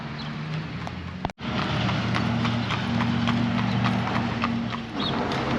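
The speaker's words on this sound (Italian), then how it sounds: "Vedere le carrozze trainate dai cavalli" Horse-drawn carriages pass in Shipshewana, Indiana, hooves clip-clopping in a steady rhythmic beat on pavement, close and prominent, with a brief sharp knock partway through and low steady background noise.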